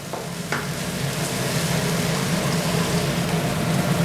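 Roasted chili paste sauce being stir-fried in a pan for a Thai clam dish, giving a steady, close sizzle with the continuous scrape and shuffle of stirring throughout, with no talking.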